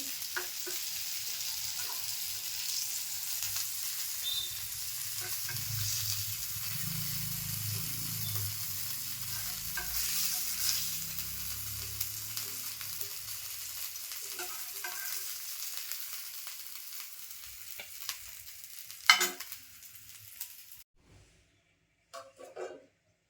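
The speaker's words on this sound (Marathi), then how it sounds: "झाली मच्छी फ्राय झालेली आहे मस्त" Saundala fish fries in a pan with a steady, hissing sizzle close by, broken by a few clinks and taps, then fades before cutting to near silence at the end.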